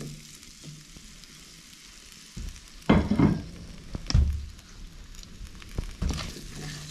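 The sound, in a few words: potatoes frying in pan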